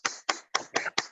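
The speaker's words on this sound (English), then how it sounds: "Please give a round of applause to Toastmaster Preethi for conducting a wonderful session" Applause for Toastmaster Preethi at a Toastmasters club meeting. Five separate, evenly spaced claps, close and crisp, with no voices.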